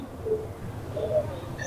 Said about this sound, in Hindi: कबूतर बहुत है।